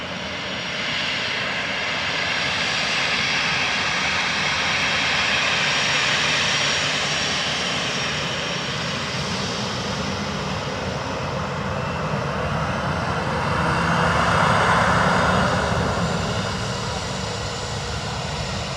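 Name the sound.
Aer Lingus XLR jet airliner inbound from JFK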